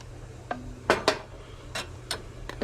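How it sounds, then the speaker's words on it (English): A metal lid being set onto a hot canning jar gives a few light clinks and taps of metal against glass, close and fairly quiet over a low background hum. "We'll put a lid on it."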